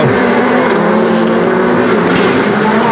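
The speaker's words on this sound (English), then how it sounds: "Listen to the gravel under the car too." Rally car from a World Rallycross qualifying session at Hell, Norway, running over loose gravel: a steady, loud engine drone with continuous crunching gravel noise beneath it, close up and unbroken for the whole stretch.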